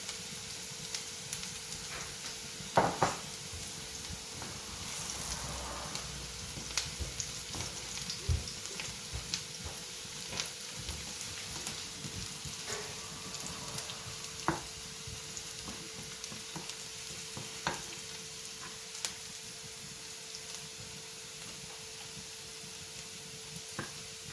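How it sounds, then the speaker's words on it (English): Fish fries quietly in a pan, giving a faint steady sizzle with occasional soft pops and clicks, low and close with no talking. "I've fried it for like 2 minutes, and later I'll add the leeks."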